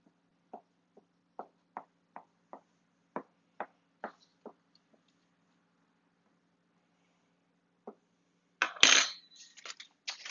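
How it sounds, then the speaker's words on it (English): A fork pokes holes into quiche pastry in a tin before blind baking. About a dozen sharp, light taps come in an even rhythm, then a pause and a louder, rougher clatter at the end. "what I'm going to do is just poke some holes in the pastry with a fork."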